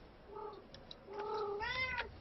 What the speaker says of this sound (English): And your cat is bothering you again.